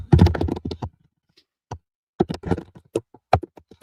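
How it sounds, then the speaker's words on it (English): Typing on a computer keyboard during a live stream: irregular bursts of close, crisp key clicks, busy at the start, then sparser taps separated by short silences. "Can you beat John at typing?"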